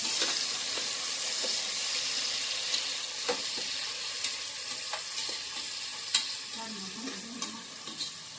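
Green chillies sautéing in a pan for vegetable biryani give a steady, moderate sizzle, with occasional stirring scrapes and clinks scattered throughout and no talking.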